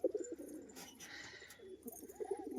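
A pair of fancy performing pigeons coo softly and repeatedly nearby, low throaty calls rolling on in a quiet setting with no talk.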